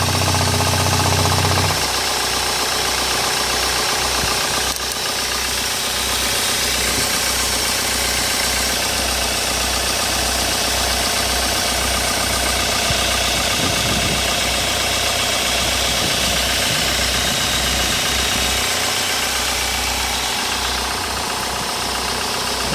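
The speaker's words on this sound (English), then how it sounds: "Engine is perfect, no problem at all." The diesel engine of a 15-year-old Hyundai Starex limousine van idles steadily with a rough, knocking rattle, loud and close, running unchanged throughout.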